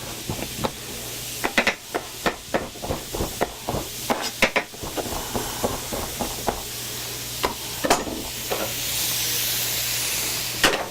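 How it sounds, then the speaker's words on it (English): Potatoes stir-fried and sautéed in a hot pan for a frittata, giving a steady sizzling hiss broken by repeated sharp scraping and clattering strikes from stirring, close and fairly loud, with the hiss swelling toward the end. "you're going to stir fry that, saute it"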